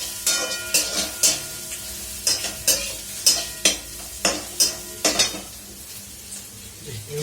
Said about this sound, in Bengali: এই রসুন কুচিগুলো দিয়ে দেবো। এটাকে হালকা নাড়াচাড়া করে